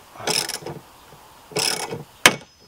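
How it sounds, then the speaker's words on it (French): A ratchet wrench tightens a shock absorber screw on a Renault Koleos, giving two short bursts of rapid clicking followed by a single sharp metallic knock, close and clear with no talking. "Clé à cliquet, je ne force pas."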